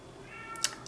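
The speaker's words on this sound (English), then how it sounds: "you can hear my cat probably meowing through every single door in this house." A brief, muffled cat meow from a distance through closed doors in a house, followed by a short sharp click, quiet against a steady background.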